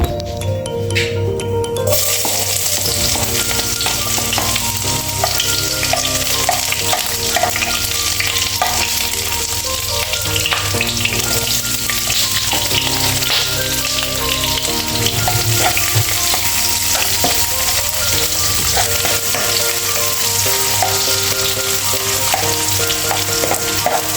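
Cauliflower and broccoli frying with sardines in a pan, a loud steady sizzle that runs throughout, with occasional stirring and scraping, close up and without talk.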